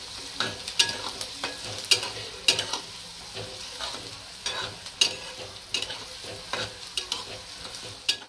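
Chopped onions sizzle and fry in a pan while a spoon stirs and scrapes them in steady, repeated strokes, close and moderately loud with no voices.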